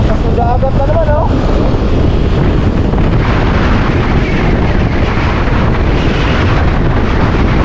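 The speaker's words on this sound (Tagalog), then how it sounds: "Lakas ng dagat na naman oh!" Rough sea waves and strong wind roar continuously and loudly during a boat ride, a dense rushing wash buffeting the microphone, with a brief voice near the start.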